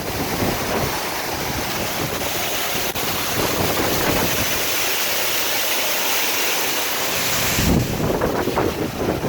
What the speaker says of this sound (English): kind of hidden under this awesome waterfall